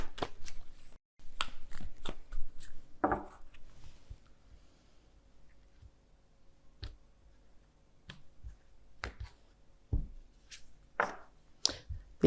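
Light oracle cards are shuffled and handled in short crisp bursts of riffling and tapping, separated by quiet pauses, close up in a calm room.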